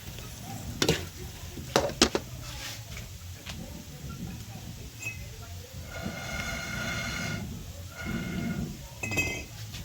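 Pork skin chicharon frying in a large amount of hot oil, a steady crackling sizzle with bursts of bubbling and occasional clinks of a utensil against the pan, while people talk nearby.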